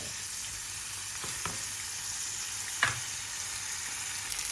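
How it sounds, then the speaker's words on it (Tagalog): Tofu fries in a pan with a soft, steady sizzle. A few sharp clicks and scrapes from stirring rise above it, and no one speaks. "magpiprito na tayo ng taupo"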